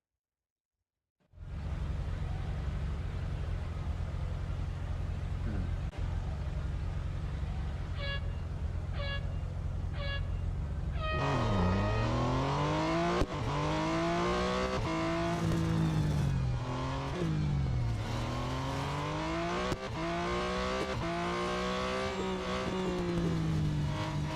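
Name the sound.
Porsche 911 Turbo S racing engine in Real Racing 3 video game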